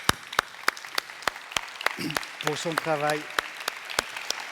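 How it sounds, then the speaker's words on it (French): Sparse, sharp claps from a small audience at an urban planning consultation in Geneva ring out one by one while someone speaks in French over them. "on applaudit l'équipe"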